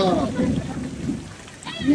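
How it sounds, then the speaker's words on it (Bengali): Heavy rain pours steadily at close range during a storm, with low thunder rumbling underneath and swelling toward the end. "আর বৃষ্টিটা দেখো গাইস খালি"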